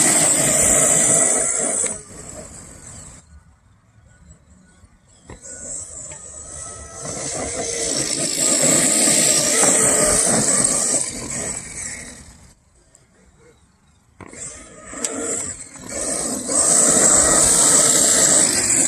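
Traxxas XMAXX RC car on an 8S battery setup, whining and hissing loudly in long bursts as it accelerates for a wheelie attempt, with two short near-silent pauses between runs.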